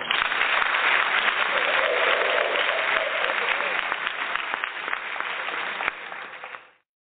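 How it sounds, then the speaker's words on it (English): Applause rises as a steady, dense wash of clapping hands, loud and close, continuing for several seconds before fading and cutting off abruptly. "Round of applause."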